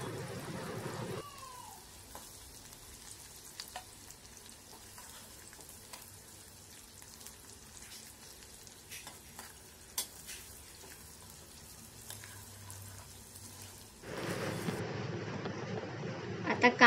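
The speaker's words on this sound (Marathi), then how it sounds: "संपूर्ण कांदा टाकून घेते आणि मी तो थोडासा फ्राय करून घेते" Whole onion pieces fry gently in a pan for a dried Bombay duck curry, giving a faint steady sizzle with occasional clicks and stirring. A brief louder burst comes near the end.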